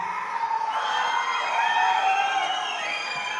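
A crowd at the pre-release event for the Tamil film Bison cheers and whoops for star Dhruv Vikram, a loud, sustained roar of many voices with scattered shouts rising near the middle.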